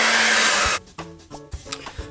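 A hair dryer blows a steady, loud rushing stream of air that cuts off partway through, leaving a few soft knocks and rustles behind.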